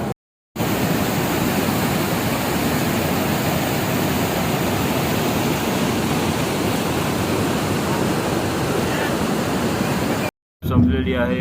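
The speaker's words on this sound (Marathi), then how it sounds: "खूप छान धबधबा आहे" A waterfall on the Narmada river roars as a dense, steady rush of falling water. The sound stays loud and constant, with brief silent cuts at the start and near the end.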